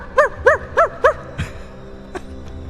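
A voice imitates a small dog, giving four quick evenly spaced yips followed by a couple of fainter sounds, close and clear.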